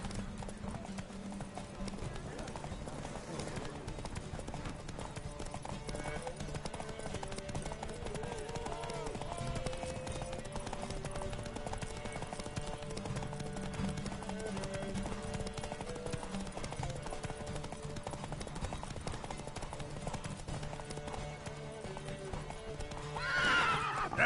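In The Witcher 3, horses race at a gallop with rapid, continuous hoofbeat clip-clops. Neighs and whinnies break through, over a steady game soundscape with voices now and then.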